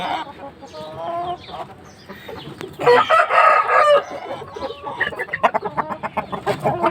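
An Aseel rooster, a Pakistani-type breed, crows loudly and close by, with one long crow in the middle and shorter calls and clucks around it.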